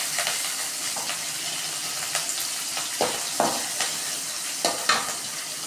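Fresh curry leaves and coriander sizzle and crackle steadily in a hot pan for cauliflower curry, with a few soft stirring scrapes breaking through the constant frying hiss.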